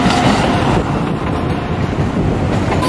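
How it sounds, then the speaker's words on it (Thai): A train rolls past close by on the rail line near a university, a loud continuous rumble with wheel clatter filling the whole stretch, no voices over it. "รถไฟเพิ่งผ่านไปนะครับ"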